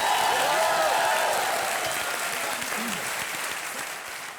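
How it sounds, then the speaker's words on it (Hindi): A studio audience on the TV quiz show Kaun Banega Crorepati claps steadily for a team, a dense burst of applause that starts strong and slowly fades. "तालियां बज जाए हमारी टीम के लिए"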